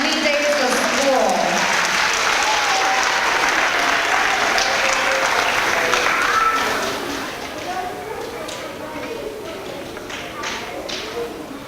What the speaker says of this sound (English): Give them a huge round of applause for not missing any days of school.